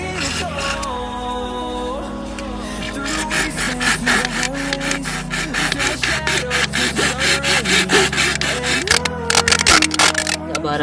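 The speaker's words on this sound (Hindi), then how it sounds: "इस डिब्बे को काटने के लिए हम इस्तेमाल करेंगे ये वाली आरी, जो एक छोटी साइज़ की आरी होती है" A small hand saw cuts through a Mountain Dew can with a steady run of rapid rasping strokes, close and loud, the rhythm quickening toward the end.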